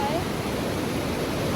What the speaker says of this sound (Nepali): दुईवटा खोला मिसिरहेको यताबाट